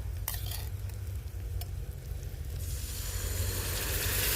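Ground masala paste for crab curry sizzling loudly in a hot pan, with close stirring scrapes and a continuous frying hiss that swells toward the end.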